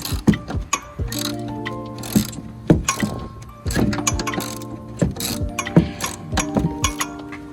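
A hand ratchet clicks steadily while loosening coilover bolts on a car, its rapid metallic ticking coming in repeated bursts close to the microphone, with brief pauses between strokes.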